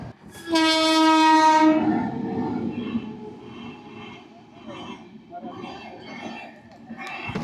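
A train sounds a long loud horn up close, then rumbles past with rhythmic clatter of wagons over the rails, with a person talking over the passing carriages.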